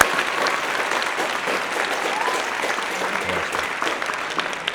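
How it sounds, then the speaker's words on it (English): A hot yoga class breaks into steady applause, a dense, even patter of many hands clapping that fills the room from start to finish with no voices rising above it. "Little applause for Shire."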